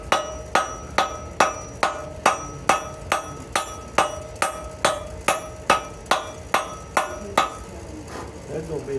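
Steady hammer blows forge-welding a cable knife, about two ringing metallic strikes per second in an even rhythm, loud and close, continuing for the whole stretch with no talk over them.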